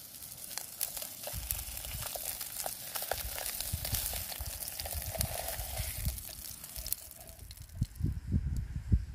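Eggs cooking in a camping pot give a steady low sizzle and bubbling crackle with occasional soft scrapes, growing louder and busier toward the end.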